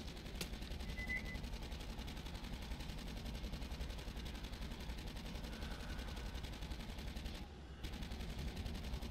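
Enemy automatic gunfire from the Aliens: Colonial Marines video game rattles on steadily for about seven seconds, a dense continuous burst that cuts out briefly near the end and then resumes.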